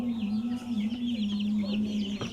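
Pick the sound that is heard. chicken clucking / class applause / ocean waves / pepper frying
chicken clucking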